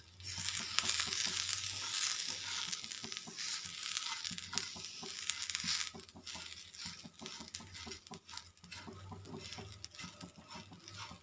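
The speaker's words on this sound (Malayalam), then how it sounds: "ഇതെല്ലാം കൂടെ നന്നായിട്ടൊന്ന് ബ്രൗൺ കളർ ആകുന്നവരെ, തേങ്ങ ബ്രൗൺ കളർ ആകുന്നവരെ നമുക്കൊന്ന് വറുത്തെടുക്കാം." Grated coconut and dried red chillies roasting in a pan for a Kerala-style okra curry, giving a soft, steady crackling patter with light sizzling that rises and eases as the mix is stirred.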